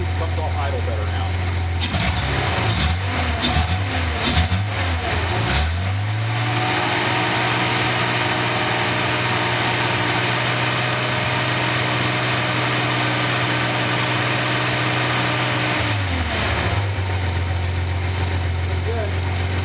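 A Datsun engine runs on a test stand, holding a steady, fairly loud idle, with blips of throttle near the start and again near the end, while people talk nearby.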